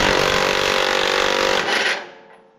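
A power tool spins nuts off bolts on a tractor plow, a loud, harsh continuous buzzing whir for nearly two seconds that cuts off and fades away.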